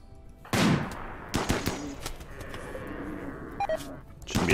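Gunfire in the colony-building game RimWorld, several sharp shots ringing out in quick bursts while a colonist fires at a nearly dead enemy, with faint game sounds between shots.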